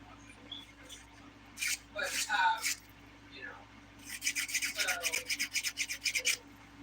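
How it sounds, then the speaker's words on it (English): Rhythmic rasping strokes of a 180 grit nail file on dip powder nails, close and fairly soft, in a short burst followed by a longer run of quick even strokes. "I'm using the 180 grit side here to smooth out these nails."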